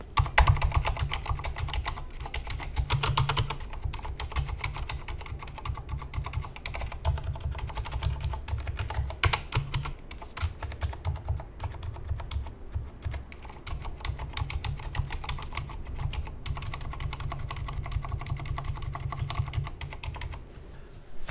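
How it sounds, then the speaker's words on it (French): Fast, continuous typing on a Corsair Strafe RGB mechanical keyboard with Cherry MX Silent switches, a dense, muted clatter of keystrokes with occasional heavier thumps, close and alone without talk. "je vais vous montrer ce que ça donne quand je tape directement sur le clavier"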